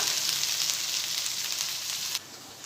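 Okra (bhindi) sautéing in a pan for masala bhindi, giving a steady bright sizzle that runs close and even before dropping suddenly quieter near the end.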